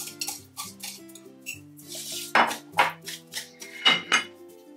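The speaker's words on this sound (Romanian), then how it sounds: "Iar acum în formă punem untul și zahărul și împindem pe toată suprafața." Butter and sugar being spread across a baking tin for a pineapple upside-down cake, with a run of close clicks and scrapes of utensil on metal, uneven and sporadic, over a soft music bed.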